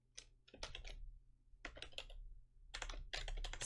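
Computer keyboard typed in quick bursts while writing a P5JS function, close and fairly crisp, with short pauses between clusters of keystrokes and a low steady hum underneath.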